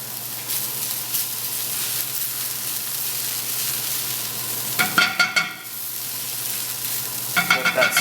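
Onions sizzle steadily in a hot pan, a close, constant crackling hiss broken twice by short bursts of stirring scrapes and clatter.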